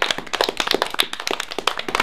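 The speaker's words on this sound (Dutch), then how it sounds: "een applaus voor haar" Applause for Malala at the United Nations, close, lively clapping from a group of hands with sharp, irregular claps throughout.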